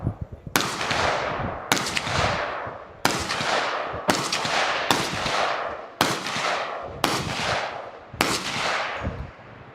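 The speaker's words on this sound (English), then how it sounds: "he's going to shoot 25 meters with M4" M4 rifle shots fired at 25-meter targets on an outdoor range in North Carolina, eight sharp loud cracks spaced about a second apart, each trailing into a long echoing decay.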